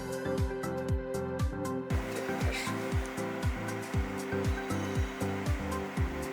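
An actuator motor from MYACTUATOR turns in position mode at 100 RPM, giving a steady near whirring drone with a regular series of repeating low pulses throughout, no talk over it.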